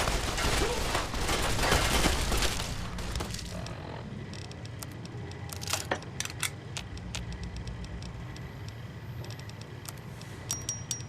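Gunfire in the Fallout New Vegas video game, starting as a heavy, continuous volley for about three seconds, then thinning into scattered sharp shots and clinks over a rumbling background.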